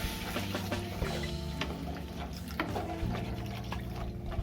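Water pours into a pan of fried crabs with eggplant, a steady close liquid splash and trickle lasting a few seconds, with faint clinks and no voices.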